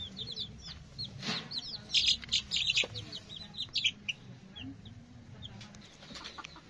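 Chickens clucking and calling in a backyard farm yard in Klaten, with several short bursts close by, some louder calls mid-way, and faint birdsong behind.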